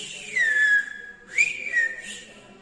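A short whistled phrase in the Tenerife whistled language, with gliding pitch: one long falling tone, then two quicker rising-and-falling notes, clear and close.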